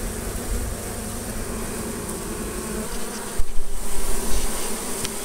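A dense honeybee swarm buzzing steadily and close during a hive removal, a continuous droning hum that swells slightly louder toward the end.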